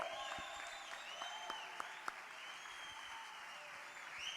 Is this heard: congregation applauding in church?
yes